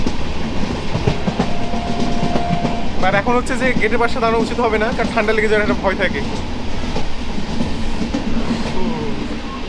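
A train running on rails through cold, foggy North Bengal, with a steady rumble and rhythmic clatter from start to finish, close and loud. Someone talks over it in the middle.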